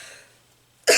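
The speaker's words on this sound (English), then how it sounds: "I still haven't got rid of my COVID cough." A single sharp, lingering post-COVID cough bursts out at the very end after near silence, close and abrupt.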